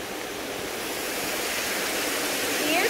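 A large waterfall feature at a house pool pours with a steady, full rush of splashing water. The sound stays close and even throughout, with no voices over it.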